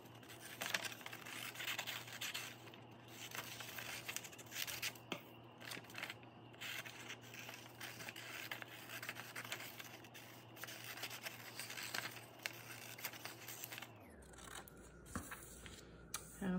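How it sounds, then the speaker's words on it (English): Scissors snip steadily through paper to cut out a paper palm during a Palm Sunday craft lesson, with a run of close, repeated cuts and light rustling of the paper, no talk. "when you're finished, you're gonna cut your palm out."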